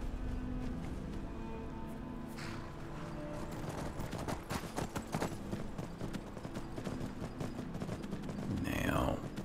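Horse hooves clip-clop steadily in the video game Skyrim, a rhythmic clatter of hoofbeats under a dense, busy game soundscape with other effects and a voice speaking over it.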